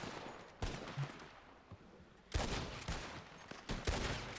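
Video game gunfire aimed at enemies hiding behind a rock: sharp bursts of shots erupt in irregular volleys, with a few isolated cracks first and then denser, louder clusters of fire.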